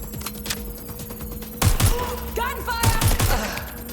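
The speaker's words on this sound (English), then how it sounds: "Gunfire!" Gunfire in the video game Watch Dogs: Legion, with scattered shots early, then two loud bursts of heavy, rapid fire; a whining tonal effect rises between them.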